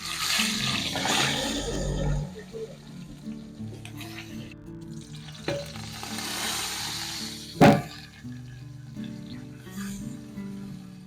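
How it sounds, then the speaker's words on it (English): Meat frying in a pan with butter and cooking oil gives a steady, close, loud sizzle throughout, with occasional stirring and a sharp crackling pop near the end. "Add butter and cooking oil and place the prepared meat."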